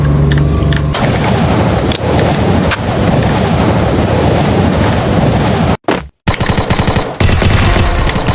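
Rapid bursts of automatic gunfire from a shooting video game, loud and dense throughout with near-continuous rattling volleys, broken by a brief silent gap near the end before firing resumes.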